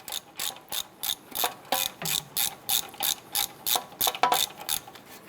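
Ratchet wrench rapidly spinning out loosened bolts from the steering knuckle during a wheel bearing replacement on a 2008-2012 Honda Accord, a steady run of about fifteen sharp, evenly spaced clicking bursts, close and loud with no talking.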